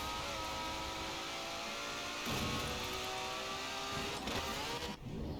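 A race car engine in a racing video game drones at steady high revs, holding a loud continuous tone with slight pitch shifts as it accelerates, no talk over it.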